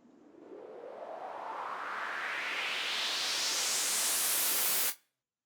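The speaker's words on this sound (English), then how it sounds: "This riser is a vital riser," A riser from the Vital synth plugin, played on its own: a loud, steady noise sweep climbing in pitch for about five seconds, then cutting off abruptly into silence.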